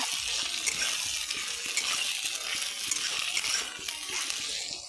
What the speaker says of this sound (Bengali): এগুলা ভালো করে তেলের মধ্যে মিশিয়ে নিব,